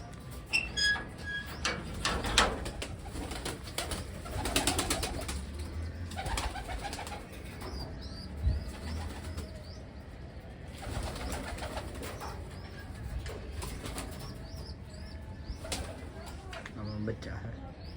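Pigeons coo repeatedly with soft bird calls, close by, while a voice talks over them on and off during a quiet home feeding and water-changing routine.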